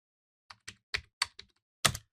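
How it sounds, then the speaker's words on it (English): A computer keyboard clacks as a PowerShell command is typed: six distinct, crisp keystrokes in an uneven rhythm, close and alone in silence, with the last press the loudest. "and I'll do that by typing"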